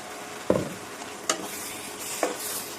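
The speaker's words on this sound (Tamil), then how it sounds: "இப்போ இந்த கடாயில் தாளிப்பில் ஊற்றுவோம்." Ground masala is poured into a sizzling tempering in a kadai for an egg kurma, producing a few short splashy sizzles and stirring scrapes spaced about a second apart, with no talk.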